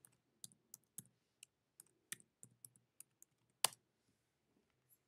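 Root password keyed in on a computer keyboard at a Kali Linux login, a run of sharp, separate keystroke clicks at uneven pace, close and clear over a quiet background with no talking.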